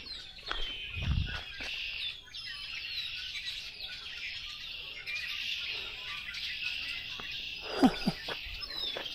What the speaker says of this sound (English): listen to all those birds up there